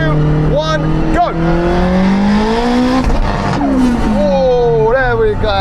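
A Honda Integra Type R and a Porsche 918 Spyder run a rolling half-mile race from 50 in third gear, their engines screaming loudly and climbing through repeated upshifts. The revs dip and rise again with each gear change, with a brief tire squeal and voices under the engine noise.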